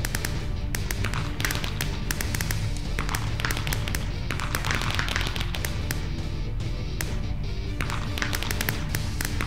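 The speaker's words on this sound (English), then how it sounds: "I love fireworks in Minecraft." Minecraft fireworks launch and explode, with repeated sharp pops and crackles scattered irregularly over a constant in-game background drone.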